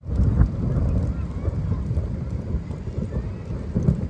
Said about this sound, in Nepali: पानी पर्दै गरेको